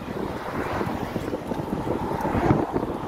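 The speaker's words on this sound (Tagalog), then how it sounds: "Lakas ng hangin." Strong wind buffeting the microphone during a bike ride, a steady loud rumbling roar with gusty swells and no talking.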